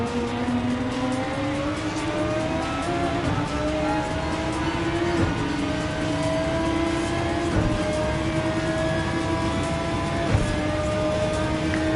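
Race car in a racing video game accelerating hard, engine note rising and falling through gear changes with a steady loud whine and faint tire noise, continuous and close.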